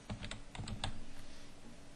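Keystrokes on a computer keyboard, a short burst of a few quick taps, quiet and close over a faint room hum, no talk.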